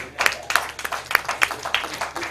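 A small group claps briefly, a scattered patter of hand claps that stays modest and fairly close.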